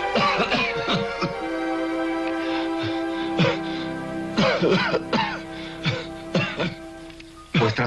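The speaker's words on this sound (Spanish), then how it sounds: "Vuestra tos va en aumento." Repeated harsh coughs break out in bursts, some rough throat clearing between them, with a steady hum in the background.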